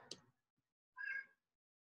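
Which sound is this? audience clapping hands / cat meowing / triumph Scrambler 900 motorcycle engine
cat meowing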